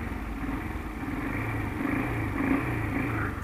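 A Honda Titan 160 motorcycle fitted with a new camshaft idles steadily nearby with a low, even engine hum and a quiet rhythmic putter, heard without talk.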